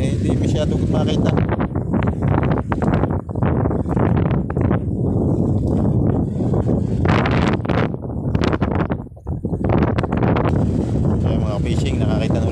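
Strong wind buffets the microphone outdoors near water during a seaside foraging outing, a loud continuous roar with gusty surges, no one speaking.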